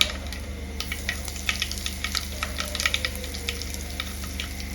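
Chana dal, urad dal and asafoetida frying in hot oil for sambar, a steady close sizzle dotted with rapid crackles and pops that continues without pause and with no talking.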